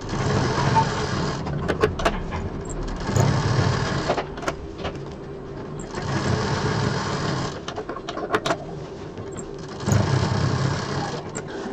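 A sewing machine stitches a loop piece onto a round sling bag in three or four bursts of rapid whirring, each lasting a couple of seconds, separated by short pauses with faint clicks.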